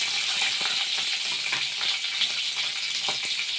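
Green chillies and peanuts fry in a pan, giving a dense, steady hiss of sizzling oil with small crackles and pops scattered throughout, close up and with no voices.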